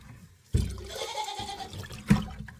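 Warm water from a bucket heater is poured into a bucket on an icy homestead, a close splashing gush lasting about two seconds with a sloshing surge near the end.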